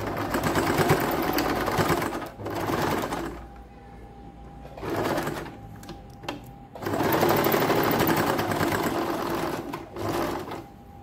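An electric sewing machine stitches a fabric dori for a blouse in bursts of rapid, close mechanical whirring, separated by short pauses in which faint handling sounds are heard.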